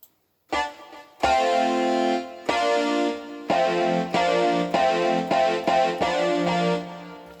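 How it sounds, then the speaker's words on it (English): A bright, buzzy synthesizer plays a string of sharp-attacked notes, starting with a lone stab and then repeating in an uneven rhythm, loud and unaccompanied. "Now the pitch is going to be determined by the synth part, which is going to be this."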